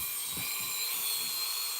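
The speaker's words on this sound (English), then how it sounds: "So we're going to drill a quick hole in here." A power drill bores a quick hole, giving a steady, loud, high whine that runs unbroken throughout.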